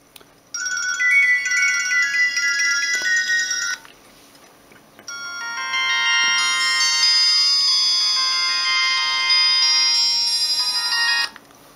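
A calm, melodic Nokia 1280 ringtone plays alone in two loud, clear phrases, a short tonal passage followed after a brief pause by a longer, fuller one.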